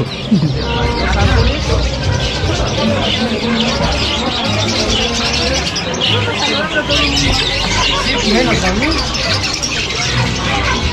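Chickens and pigeons at a busy Mexico City market: scattered squawks, chirps and cooing mixed with rattles and a steady hubbub of voices, with people talking nearby throughout.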